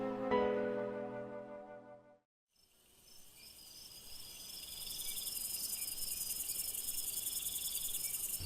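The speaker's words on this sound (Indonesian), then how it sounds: "Suara jangkrik masih bersautan meski malam telah larut." Crickets chirp steadily at night, a high continuous trilling that fills the background after a short musical passage fades out.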